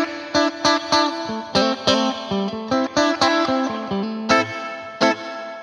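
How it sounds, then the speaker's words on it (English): Spring reverb colours a run of plucked, distorted instrument notes played in a quick, uneven rhythm, each note trailing a short, slightly twangy ringing tail. The tone is bright and fairly loud, with no voices. "this is the spring sound for that"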